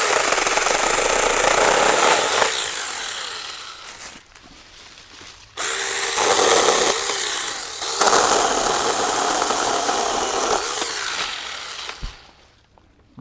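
A Tomyvic 6-inch mini chainsaw cuts through wood while pruning a tree, giving loud, near buzzing bursts that drop off briefly between cuts and then surge again before cutting out at the end.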